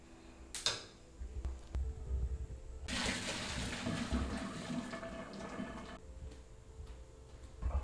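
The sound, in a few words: straining boiled eddoes, draining water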